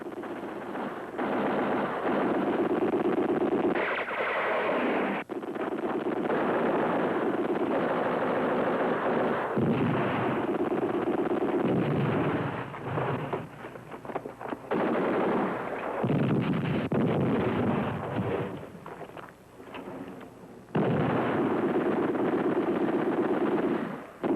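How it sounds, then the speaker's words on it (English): Battle sounds from a 1987 war film about El Alamein: sustained machine gun rattle mixed with heavy mortar thuds, loud and dense for most of the stretch, dropping briefly before resuming at full intensity. "Lay down mortar fire."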